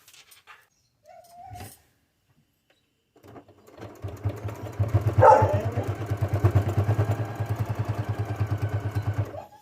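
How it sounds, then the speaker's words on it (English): A sewing machine stitches a fabric scissors holder pocket, starting after a few short clicks and a brief whine, then running steadily with a rapid, even mechanical chatter, close and loud, with no talking. "I'm going to sew it here to here to here to here"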